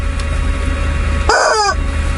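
A chicken gives one short, loud burst of clucking squawks partway through, standing out over steady low background hum.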